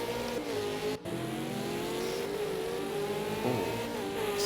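A V8 Supercar in a racing video game at Circuit of the Americas, its engine droning loud and steady as it brakes and bounces through a chicane, with pitch rising and falling through the gears.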